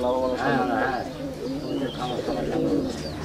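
Pigeons coo on a pigeon farm, making a continuous soft throaty cooing that sits close and steady under a voice speaking over it.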